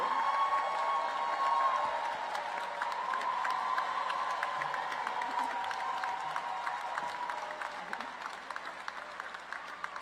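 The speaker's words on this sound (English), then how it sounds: "Let's give Ms. Powell another warm round of applause, please." Sustained audience applause with scattered cheers fills a university winter commencement ceremony, steady and dense throughout before easing slightly near the end.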